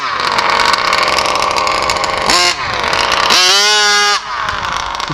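An HPI Baja RC car with a 57cc twin engine and a new clutch runs loud and close, buzzing steadily with two sharp revs that rise and fall in pitch.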